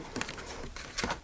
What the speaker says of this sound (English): Shuffling up for another prompt.